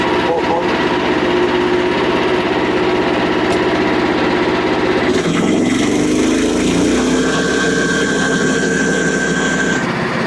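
A Frontier sawmill engine runs loudly and steadily while cutting a black cherry log, its tone shifting partway through as the blade load changes, with a voice talking beneath the engine noise.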